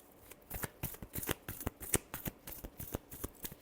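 Tarot cards being shuffled by hand, a rapid series of crisp riffling flicks and slaps at close range, fairly quiet with no talking.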